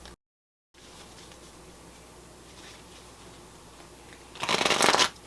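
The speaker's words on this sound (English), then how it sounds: "And let me shuffle these good." Tarot cards are riffled in a loud, close burst near the end after a quiet stretch with faint handling rustles.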